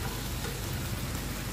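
Cauliflower stir-fried in a pan gives a soft, continuous sizzle and crackle, faint and even throughout, with no voices.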